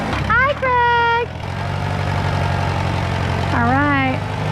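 A tractor engine idles steadily and loudly at a farm barn, its low drone continuous throughout while people speak over it nearby.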